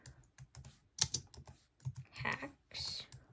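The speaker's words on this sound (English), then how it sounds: "go to Google, type in" Someone typing a Google search on a computer keyboard, close, crisp key taps in quick uneven bursts with a couple of brief pauses.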